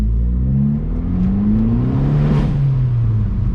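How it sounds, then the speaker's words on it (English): An Abarth car engine with an induction kit revs and drones loudly, pitch climbing and falling as it accelerates, heard from inside the moving car. "definitely sounds like an induction kit"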